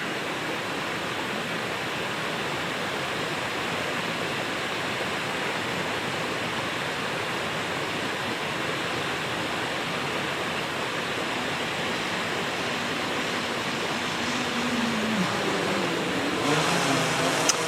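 A small quadcopter drone fitted with Master Airscrew carbon fiber propellers flies outdoors, giving a steady, broad whooshing whir that stays fairly even and moderately distant, rising slightly near the end.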